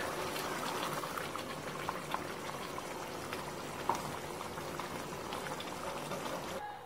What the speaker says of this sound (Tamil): இது நல்லா கொஞ்சம் கொதிச்சிரட்டும்